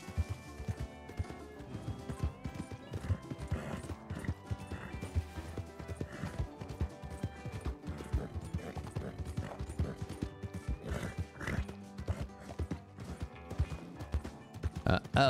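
Horse hooves clip-clop in a quick, rhythmic gallop in Red Dead Redemption 2, over a busy background of game sound effects and music.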